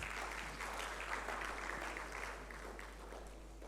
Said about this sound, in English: let's give a clap to all of us